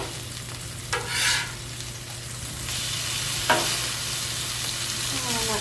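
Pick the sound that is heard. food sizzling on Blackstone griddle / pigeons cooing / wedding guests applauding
food sizzling on Blackstone griddle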